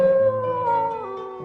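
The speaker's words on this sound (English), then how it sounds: "All of a sudden, the Jackal began to howl loudly." A jackal howls loudly in one sustained, slightly falling tone lasting over a second, alone and close.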